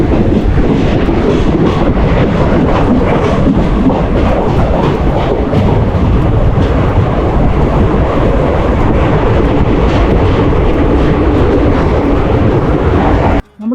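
A train rumbles loudly and steadily with wheels rattling on the tracks as it departs Palakkad Junction railway station in heavy rain, wind buffeting the microphone throughout.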